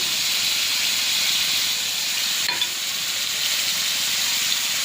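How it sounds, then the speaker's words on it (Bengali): Ground shrimp paste frying in a pan, a steady, close broadband sizzle and hiss that runs the whole time with one faint tick midway and no voices. "যে চিংড়ি মাছগুলো বেটে রেখেছিলাম সেই চিংড়ি মাছ বাটা দিয়ে দিলাম। এবার একটু ভাজা ভাজা করে নেব এটা"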